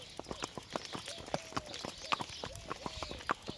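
Two horses being led to pasture walk with uneven steps, their hooves clip-clopping in a quick, irregular patter that sounds fairly quiet and close.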